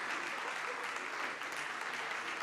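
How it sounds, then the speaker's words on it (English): Faint, steady applause from an audience as guests are called onto the stage at a social business event, a continuous wash of clapping heard from a distance. "Yes, and with a big applause."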